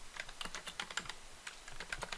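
Computer keyboard keys clatter in a quick, uneven run of close taps while setting up Visual Studio Community 2019 on Windows 10, with no voices present.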